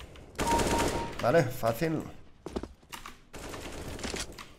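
Bursts of M4 rifle fire in a video game, rapid rattling volleys broken by short gaps, loud and close, with someone briefly talking between shots.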